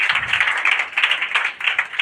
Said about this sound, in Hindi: ताली मार दीजिए इसके लिए,